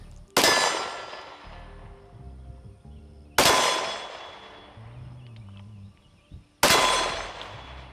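Three loud, sharp slow-fire shots from a concealed carry handgun at a range, spaced roughly three seconds apart, each ringing off with a metallic decay between them.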